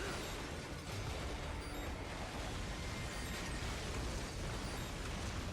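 A building collapses in Metal Gear Rising: Revengeance, heard as a continuous low rumbling roar of crumbling debris and muffled blasts, dense and steady throughout without pause.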